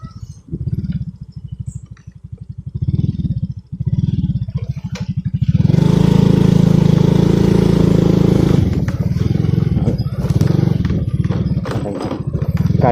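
A motorcycle engine labors loudly up a rough adventure trail in Siruma, revving steadily with a harsh, sustained drone that surges louder midway, close and continuous with no talk.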